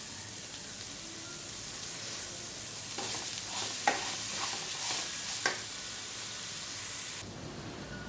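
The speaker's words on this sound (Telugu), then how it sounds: "సో కొంచెం ఫ్రై అవ్వనిద్దాం మసాలాని." Masala with coriander powder for egg biryani frying in a pan, a steady close sizzle and hiss with a few scraping stirs in the middle, carrying on alone without talk.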